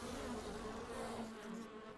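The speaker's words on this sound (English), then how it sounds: "Oh, I heard bees." Bees in the game ARK Survival Ascended give a close, steady droning buzz that holds for a couple of seconds without a break.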